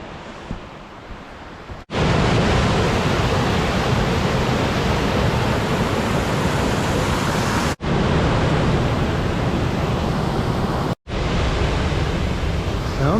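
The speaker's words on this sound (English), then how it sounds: "So many waterfalls in this trail." A waterfall near the Yellow Dog River on an autumn forest trail in Michigan roars with a loud, steady rush of falling water that is broken by a few abrupt cuts.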